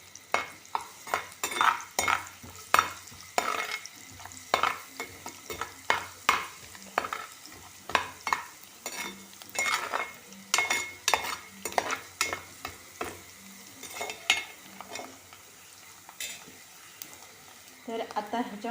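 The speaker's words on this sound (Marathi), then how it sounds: "थोडासा लसूण चांगला परतून घ्यायचा" Garlic sautéing in a pan for colocasia-leaf knots, a steady close sizzle broken by frequent scraping stirs of a spatula against the metal, with faint talk in the background.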